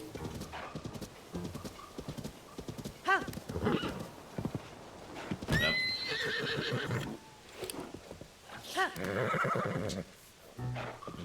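A horse in the video game Zelda: Tears of the Kingdom trots with rhythmic hoof clip-clops and gives a loud whinny midway, with another neigh later. A player says a word briefly over the game sounds.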